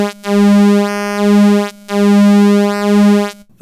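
A loud, buzzy square wave from a Behringer Neutron synthesizer sounds in sustained notes, broken by brief gaps, with rich hollow overtones.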